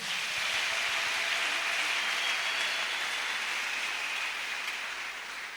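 A church congregation bursts into sustained applause for the Lord, a dense, even roar of clapping that holds for several seconds and eases slightly at the end.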